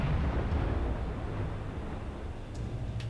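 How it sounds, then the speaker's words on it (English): An enemy ship explodes after a torpedo hit in the submarine game Silent Hunter IV, heard as a sustained low rumbling roar of blast and fire with a couple of faint sharp crackles near the end, no speech. "because that would have been a much larger explosion if he had been"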